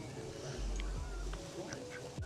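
Ducks quack a few times at close range in an outdoor spot near a castle and village, short nasal calls over soft background noise, with people's voices faintly around them.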